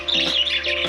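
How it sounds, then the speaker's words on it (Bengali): Pet birds in a home garden give a quick burst of close, loud squawks and chirps, alone and lasting under a second. "পাখিগুলা"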